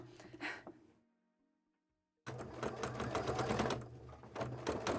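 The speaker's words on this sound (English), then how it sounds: "I am literally sewing it with a top stitch." A domestic sewing machine top-stitches fabric arm wings for a cosplay costume, whirring loudly in a short burst, pausing into near silence, then resuming for a longer, steady run of rapid stitching.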